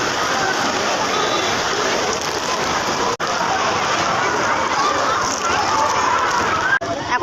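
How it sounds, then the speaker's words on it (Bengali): Heavy rain pours outside a boy's crowded school gate, where parents stand under umbrellas. A steady, dense hiss fills the whole stretch, with a murmur of voices beneath it and a brief dropout near the middle. "এখন বৃষ্টিটা একটু কমেছে"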